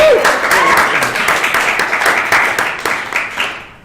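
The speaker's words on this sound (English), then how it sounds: "Give yourselves a round of applause." An audience at a live podcast show claps loudly and continuously, a dense burst of applause that gradually tapers, with a brief cheering voice near the beginning.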